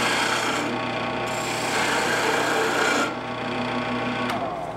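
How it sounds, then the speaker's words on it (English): A skew chisel shaves end grain on spinning wood at a lathe, giving a close, steady rasping cut that briefly eases off and then picks up again, with no voices. "There's nothing going to cut cleaner end grain than a skew."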